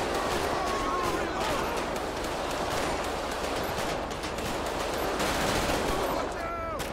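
Automatic gunfire in GTA 5 during a police gang-unit patrol crackles continuously at moderate loudness, layered in a busy mix of shots and street noise, with faint voices beneath.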